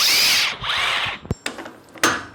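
Milwaukee 2762-20 cordless impact wrench at its highest speed, a loud whirring spin that cuts off briefly and resumes, followed by sharp clacks and a final short burst, heard up close.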